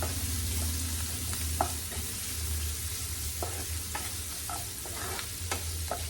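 Green peas curry with a pinch of turmeric being sautéed in a pan, a steady low sizzle with scattered scrapes and stirring taps of a spoon, close by and alone without talk.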